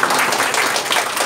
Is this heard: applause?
yes